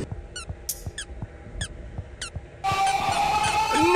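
Sharp, high squeaks repeat in a quick irregular series in the video game Boofie's Bunker, each one brief and clear, before a louder, busier burst of game noise takes over.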